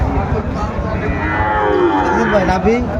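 Sahiwal bulls at a cattle market in Noakhali, several loud nearby moos and bellows over a busy crowd murmur, with people talking throughout.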